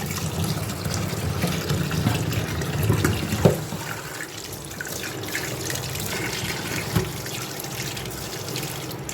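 Tap water runs steadily into a sink while fresh fish is washed by hand, with a few splashes and knocks rising briefly over the constant close flow.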